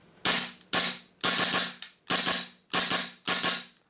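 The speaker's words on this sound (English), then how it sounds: "dry fire this, you'll be able to see you can actually get some rapid fire shots in with this" A WE SIG Sauer P320 M17 airsoft pistol is dry fired rapidly, giving seven sharp mechanical snaps of the slide cycling in quick, slightly uneven succession, close and crisp with no talk.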